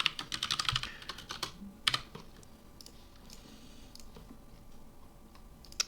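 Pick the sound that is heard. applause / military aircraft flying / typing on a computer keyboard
typing on a computer keyboard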